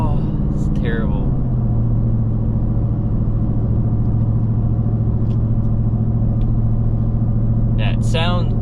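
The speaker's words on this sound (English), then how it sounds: "If you want your truck to sound like a legitimate Mustang" A deep, steady V8 engine rumble from a 2017 Ford F-150 5.0 with a Corsa Pro Series exhaust idles loudly throughout, with someone speaking briefly at the start and end.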